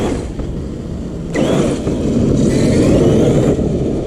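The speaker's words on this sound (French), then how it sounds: "Voyez comment elle se lève avec la puissance du moteur." The motor of an XMAXX 8S RC car runs with a loud, close, low rumble that surges and grows heavier partway through, then holds steady.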